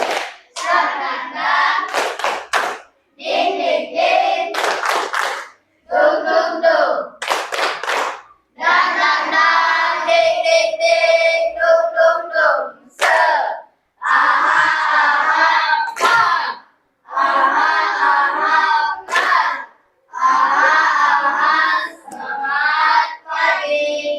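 A school class does a rhythmic 'tepuk semangat' clapping ice-breaker, with loud, close bursts of patterned hand claps in repeated phrases separated by short pauses, and voices chanting along in the gaps.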